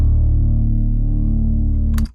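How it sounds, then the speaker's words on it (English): A trap bass in the style of Metro Boomin's Heroes and Villains, distorted with the Homicide plugin, holds a thick, gritty low note for about two seconds alone, then stops with a brief click. "Then I've distorted it using Homicide,"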